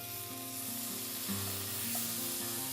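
Beef burger patty sizzling steadily in a pan just after being flipped, a continuous close frying hiss with no voices.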